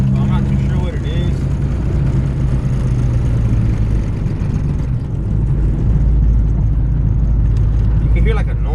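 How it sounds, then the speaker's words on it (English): Interior of a Honda Civic EG hatchback driving on new front control arms, a steady loud low engine and road drone with heavy vibration throughout, someone talking over it. "It shakes everything in the car."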